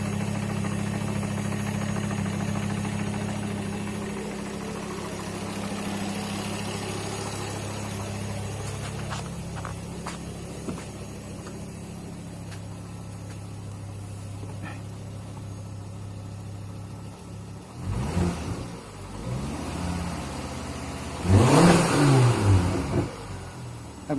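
A car engine idles with a steady low hum and gearbox noise, then revs in short bursts near the end, the rises in pitch clear and close with no talking.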